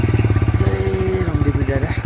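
A new motorcycle's engine thumps in a steady, close, pulsing rhythm while being ridden on a cold road, with voices talking over it.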